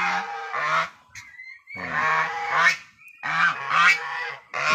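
Turkeys calling up close in three loud, honking bursts separated by short pauses, with harsh, nasal tones and no talking.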